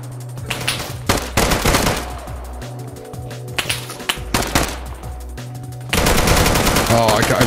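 Bursts of automatic machine gun fire in Deadside, rapid rattling volleys broken by short pauses, then a sustained loud barrage at the end, close and sharp, with game music tones underneath.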